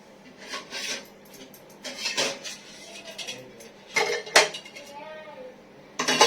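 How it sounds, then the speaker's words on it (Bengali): A gas stove being scrubbed with a scrubber, bursts of rough rasping friction in short strokes with clanks of metal pan parts, close and fairly loud, separated by quieter pauses. "এই যে কসবেট দিয়ে ডলে দিন"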